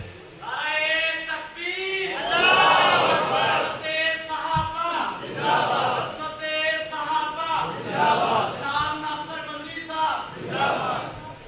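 A large crowd at a religious gathering chants a slogan in repeated rhythmic call-and-response bursts, many voices roaring together in waves that rise and fall throughout, loud and reverberant.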